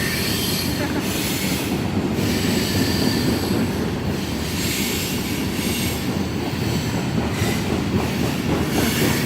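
A train passes close by, rolling loudly and continuously with a rough rumble, rhythmic clatter and high wheel squeal throughout.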